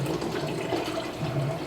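Cold water pouring into a cooking pot while making a pork neck bone and potato stew, a steady close splashing flow.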